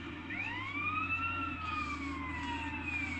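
A fire engine siren from a firefighter video game responding to a farm fire, with a steady wailing tone that rises and falls, played over a constant low engine hum with no talking.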